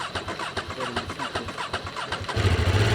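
A 2026 BMW F 450 GS Trophy motorcycle engine turning over and catching, with a choppy cranking rhythm that settles into a steady, louder idle, close by and outdoors.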